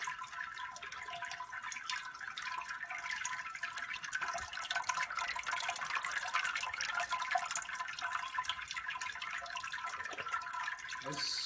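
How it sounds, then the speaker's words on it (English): Water sparging grain in a Grainfather brewing system, a steady soft trickling and splashing of liquid running continuously at moderate distance, with no talk. "Sparging here."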